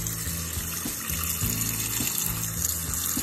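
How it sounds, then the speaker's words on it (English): Running water pours steadily into a pot for making rosewater, a continuous gushing splash with a full, hollow tone that holds throughout. "You're gonna fill the pot up with water"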